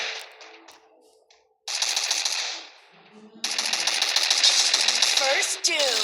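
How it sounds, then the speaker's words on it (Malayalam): Bursts of rapid automatic gunfire from the Free Fire video game, with a short burst, a pause, then a longer sustained volley, fairly loud. "ആരാ അവിടുന്ന് വെടിവെച്ചുള്ളത്?"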